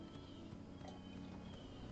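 Horse hooves from the video game Horse Isle 3, a mare pulling a cart, with a steady, muffled clip-clop running quietly through the whole short stretch.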